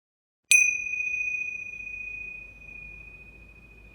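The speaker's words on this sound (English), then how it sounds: "before I close the puja officially with the gong" A single gong struck to close a puja, one sharp bright strike that rings on with a steady, clear tone and slowly fades over several seconds in a quiet room.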